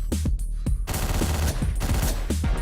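Rapid bursts of Uzi submachine-gun fire in the top-down shooter Hotline Miami, several loud, close volleys cracking in quick succession with short gaps between them.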